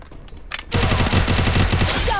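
An MP40 submachine gun fires a rapid, loud sustained burst in a video game, preceded by a few quieter scattered shots.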